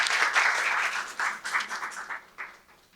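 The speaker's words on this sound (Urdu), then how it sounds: "بھرپور تالیوں میں ڈاکٹر صاحب کا استقبال کیجیے." Seminar audience applauding to welcome a speaker to the podium, a burst of many hands that rises quickly, holds steady, then thins out and fades over a few seconds.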